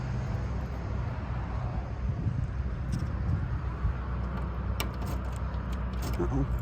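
Keys jingle and clink near the end over a steady low rumble inside a 1966 Chevrolet Chevelle SS 396.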